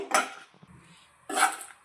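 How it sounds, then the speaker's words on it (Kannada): Seven or eight dry red chillies fried in a little oil in a kitchen pan, heard as two sharp bursts of scraping and clattering against the pan with a quieter low stretch in between. "ಈಗ ನಾನಿಲ್ಲಿ ಏಳರಿಂದ ಎಂಟು ಒಣಮೆಣಸಿನ್ಕಾಯಿನ ಫ್ರೈ ಮಾಡ್ಕೊ ಸ್ವಲ್ಪ ಆಯಿಲನ್ನು ಹಾಕಿಬಿಟ್ಟು ಫ್ರೈ ಮಾಡ್ಕೋಬೇಕಾಗುತ್ತೆ"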